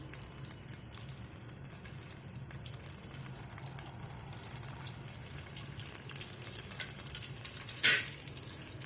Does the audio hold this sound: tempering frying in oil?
yes